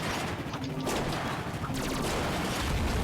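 Explosions aboard a ship in the Ratchet & Clank PS4 game, Veldin level: a dense, continuous barrage of blasts and crashing debris, loud and unbroken throughout.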